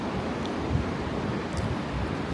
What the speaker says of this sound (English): Check out the waves and stuff coming through the pier.